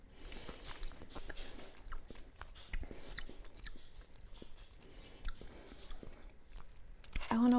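Someone chewing and biting a rice cake filled with fruit-flavored bean paste, with close, soft crunchy mastication and mouth sounds repeating steadily throughout, plus faint background noise.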